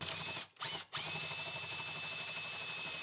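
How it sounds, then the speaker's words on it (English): A power drill bores an 8mm hole through a house soffit with a steady, whining motor hum, briefly stopping twice near the start before running on continuously, close and fairly quiet. "To start off with, I'm drilling a 8mm hole so this can be seen from inside the loft."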